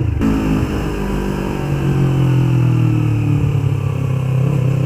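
A 2016 Yamaha MT-25 motorcycle is ridden with a loud, close engine drone that climbs steadily in pitch as it accelerates through the whole stretch, with no talk.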